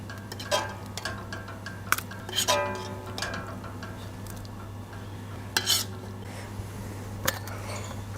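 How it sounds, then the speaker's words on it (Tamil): Cooked rice is stirred in a metal pot to break up lumps for tomato rice, with irregular scraping and clinking of a utensil against the vessel over a constant low hum, close up, no talking. "தக்காளி தொக்கு போடுறதுக்கு முன்னாடி ரைஸை ஒரு தடவை கட்டி இல்லாமல் கலந்து விட்டுக்கோங்க"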